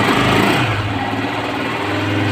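A Honda CG 125 motorcycle engine idles close by with a steady, fast, even putter, loud and alone.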